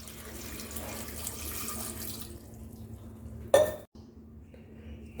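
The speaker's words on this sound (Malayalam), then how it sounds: "ആവശ്യത്തിന് വെള്ളം ഒഴിക്കാം." Water from a tap streams into a pot of moong dal for sambar, a steady close pour that stops midway, followed by a sharp clink of metal against the pot.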